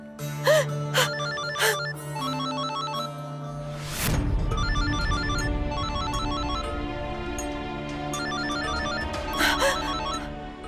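A telephone ringtone chimes in a repeating melodic pattern through an Indian TV drama scene dubbed into Turkish, loud and close with dramatic music swells and no talk.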